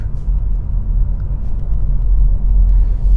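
A car pulls away up a steep hill in second gear, its engine giving a deep, steady rumble that swells slightly as it climbs, close and continuous, with no talking.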